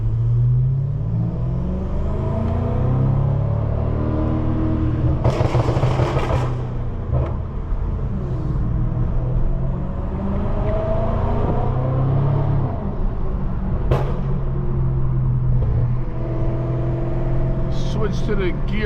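A 700+ HP BMW M550i drives through city streets and highway, with a loud, continuous engine drone whose pitch sweeps upward under acceleration and drops at each gear shift, close and steady for the whole stretch.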